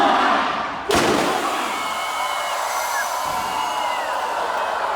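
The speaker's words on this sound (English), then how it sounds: "to be shot out of a cannon" A human cannonball is fired from a circus cannon at the Royal Canadian International Circus. A sharp thump is followed by a sustained rushing roar and faint crowd noise.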